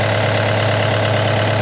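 A 2022 CAT 299D3 XE compact track loader idles with a steady, even diesel drone and a constant low hum. The engine is heard up close and unchanging, with no talk over it.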